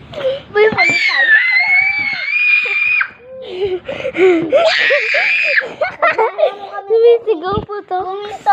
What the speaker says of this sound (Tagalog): Sumisigaw po to.